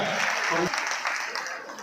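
A crowd at an International Women's Day celebration claps steadily throughout, a dense wash of applause with faint voices mixed underneath.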